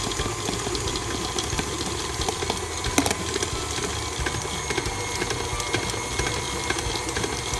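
An electric mixer with a paddle creams butter with white and dark brown sugar for oatmeal cookie dough, producing a steady, fairly quiet motor whir with faint rattling and one small knock partway through.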